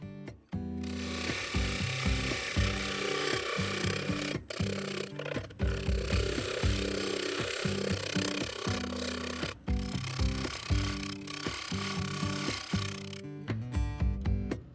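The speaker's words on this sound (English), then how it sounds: "Shear scraping worked best, using the 1/2 inch bowl gouge to remove the high spots." A half-inch bowl gouge shear scrapes a wooden bowl spinning on a lathe, giving a steady, close rasping scrape with brief breaks, over a rhythmic background of music-like tones.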